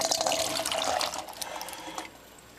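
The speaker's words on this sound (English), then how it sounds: "we'll dump these into the sink and rinse these beans off" Tap water runs into a kitchen sink as canned beans are rinsed in a colander, a steady splashing hiss that eases off toward the end.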